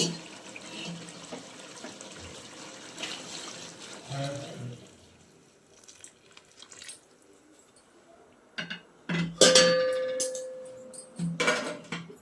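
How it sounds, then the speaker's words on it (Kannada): Heated water poured into a pot of chicken biryani base with oil on the surface, a broad watery pour and splash in the first seconds, then quieter kitchen sounds with a few sharp clinks near the end. "ಈಗ ಇದಕ್ಕೆ ಕಾಯಿಸಿಟ್ಕೊಂಡಿರೋಂಥ ನೀರು ಹಾಕ್ತಾಯಿದ್ದೀನಿ."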